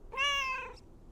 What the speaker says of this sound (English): You're my favorite cat, Mort.